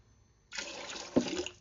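Water pours into a container holding eggs, a sudden splashing gush starting after a short pause and running steadily, with a brief louder slosh midway.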